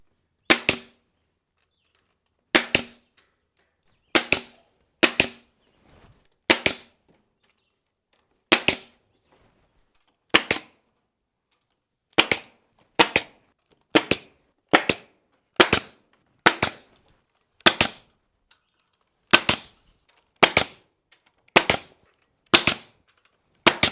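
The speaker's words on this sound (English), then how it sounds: "just staple it with a 18-gauge pneumatic stapler" An 18-gauge pneumatic stapler fires repeatedly as it tacks wire mesh onto a base frame. The sharp, isolated snaps come at irregular intervals over a quiet background, close to the microphone.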